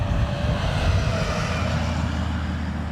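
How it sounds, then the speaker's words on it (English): A Ryanair airliner from Lisbon on approach at Dublin Airport, a steady low engine roar with a broad rushing hiss, constant and fairly close throughout. "We have a Ryanair from Lisbon on approach."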